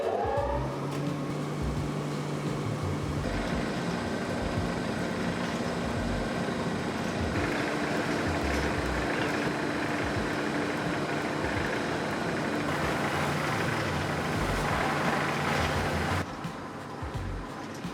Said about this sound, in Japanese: 手のひらサイズぐらいにカットして、それを機械に通して少し粗い綿状に戻します。